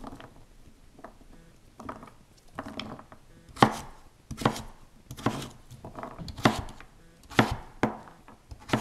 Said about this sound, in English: Then cut it into sticks. And finally into cubes.